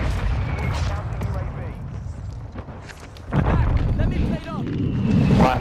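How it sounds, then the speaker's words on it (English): Mortar strike explosions in Call of Duty Warzone land as deep booming thuds amid scattered gunfire, with a heavy blast rolling in partway through and another swelling near the end, while players talk over it. "Mortar strike, move on."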